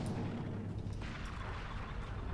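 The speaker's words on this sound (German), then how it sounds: "Es blitzt, es knallt." A firestorm in the Guild Wars 2 video game brings a dense, loud, continuous rumble of blasts and lightning, with a few sharper cracks breaking through the booming wall of noise.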